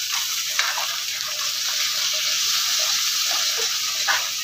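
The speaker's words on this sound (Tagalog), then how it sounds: "gisa na natin yung kamatis" Tomatoes sautéing in a hot pan for ginisang monggo give a steady, close sizzle and crackle with faint stirring clinks throughout and no talk.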